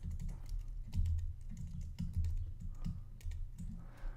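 Fingers type steadily on a computer keyboard, a close, continuous patter of key clicks at a moderate pace, with no voice over it.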